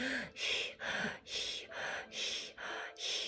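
Rapid, rhythmic panting through the mouth, about seven quick breaths in a row, close and fairly soft with no talking.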